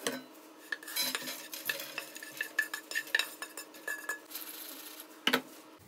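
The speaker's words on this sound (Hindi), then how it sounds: "इन ड्राई फ्रूट्स को आपने रोस्ट करना है तब तक कि ये गोल्डन ब्राउन हो जाए और क्रिस्पी हो जाए।" Dry fruits and nuts roast in a pan while a metal spoon stirs and scrapes them in quick, uneven strokes over a faint, soft sizzle.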